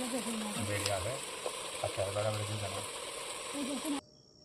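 Potatoes sautéing in hot oil in a home kitchen, a steady loud sizzle and crackle with occasional stirring scrapes, ending abruptly into quiet.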